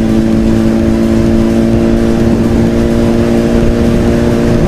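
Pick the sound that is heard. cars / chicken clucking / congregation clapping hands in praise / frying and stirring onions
cars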